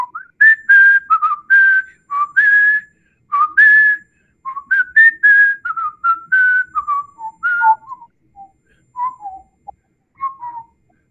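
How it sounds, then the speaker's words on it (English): A person whistles a lilting melody alone, clear and close, in phrases with short pauses, trailing off into softer, scattered notes toward the end. "Why don't you whistle us a little tune?"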